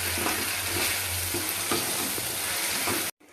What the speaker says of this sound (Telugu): తోటకూరని దీంట్లో వేస్తున్నాను. చక్కగా కలబెట్టాలి.